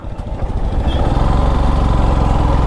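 A motorbike engine idles loud and close with a steady throbbing putter while the bike is parked at a temple, the revs rising slightly just after the start.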